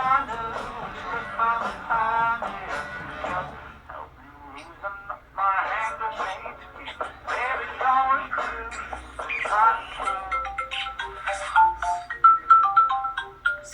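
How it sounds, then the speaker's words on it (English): A phone plays a melodic ringtone for several seconds while people keep talking over it, the tune repeating in short phrases. "It's not the time to answer your phone."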